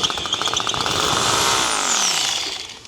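Power drill boring into a farm water trough, a loud close whine that rises and holds steady in pitch before tailing off, with rhythmic pulses at the start.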